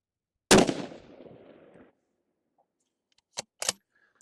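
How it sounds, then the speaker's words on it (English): A single loud rifle report cracks close by and rings out briefly, followed by a moment of quiet and then two faint, sharp metallic pings from a distant steel target plate being struck. "see if we get our first round impact here"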